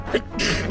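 A single short sneeze, sharp and fairly close, over quiet background noise.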